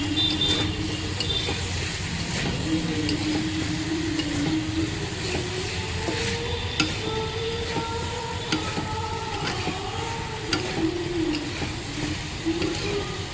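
Young jackfruit curry is sautéed in a pan, sizzling loudly and steadily up close while a spatula stirs and scrapes through it, under a faint background hum.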